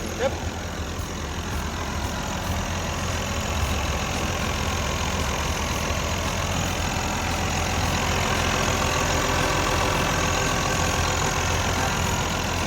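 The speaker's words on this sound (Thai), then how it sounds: "การทำงานของตัวเครื่องยนต์ของเขาเนี่ยก็ทำงานได้นิ่ม" A Komatsu WA430-6 wheel loader's diesel engine idles steadily at close range, a low, even rumble with a faint knocking texture that holds without change throughout.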